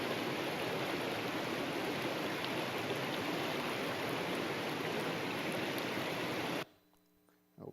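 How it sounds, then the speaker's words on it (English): The Coquitlam River rushes in a loud, steady broadband roar of flowing water that holds constant for several seconds, then cuts off abruptly into near silence with a faint sound at the very end. "this is the Coquitlam River on Sunday"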